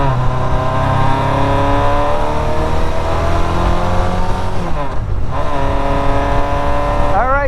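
An old, tired motorcycle engine revving loudly nearby, sustained droning tones rising and falling in pitch, with a dip and sharp rev-up near the end.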